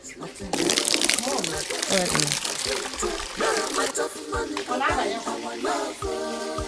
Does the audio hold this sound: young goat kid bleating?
no